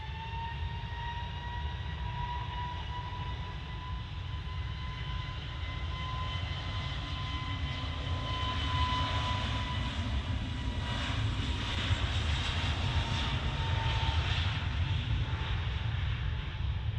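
A one-month-old airliner's engines at Manchester Airport roar steadily and loudly throughout, a sustained broadband drone with whining tonal components that swells slightly toward the end.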